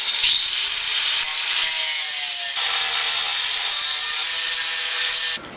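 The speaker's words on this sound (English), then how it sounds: "So we've got our grinder. We're going to take all these off and see what's underneath." A handheld grinder cutting away a thin welded-in patch plate over a rusted car torque box, a steady loud abrasive whine held close for several seconds, then cutting off abruptly near the end.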